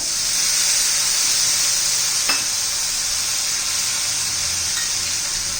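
Red chili powder mixed with water hits a hot pan for garlic chutney, giving a loud, continuous hissing sizzle that holds steady throughout, with a faint clink partway through.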